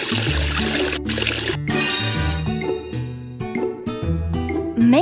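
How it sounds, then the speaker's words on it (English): Cartoon water sounds in a Tayo the Little Bus children's game as faces get washed: pouring and trickling effects with tinkly chimes over a bouncy musical backing, steady and fairly loud. "Help wash their faces with water."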